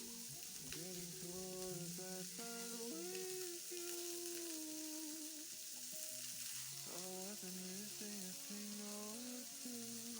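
Pork browning in a pan gives a continuous faint sizzle and crackle, quiet and close, with an occasional toss or stir. Tonal music plays in the background throughout.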